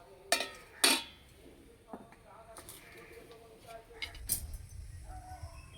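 A lid clanks down onto a pot of oil-free mixed vegetables cooking with a little salt, two sharp metallic knocks near the start, then quieter clinks and a soft rumble, with speech around it.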